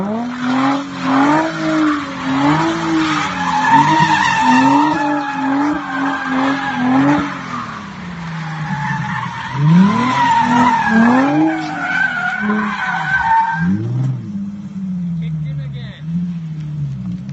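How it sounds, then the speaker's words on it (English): A Nissan 350Z/G35 drifting with traction control kicking in, engine revs rising and falling in repeated surges while the tires squeal and skid loudly and close by, with a final sharp screech before it eases off. "a quick snippet of what it's like to try to drift the car when the"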